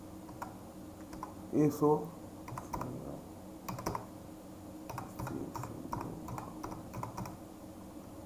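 Typing a website address into a Google search on a computer keyboard, clusters of light key clicks and taps spread over several seconds with a few louder knocks, under a person speaking briefly.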